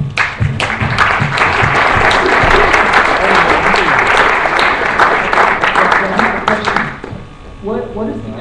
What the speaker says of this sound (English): I think everybody here should give these guys a big round of applause for a very nice piece of work.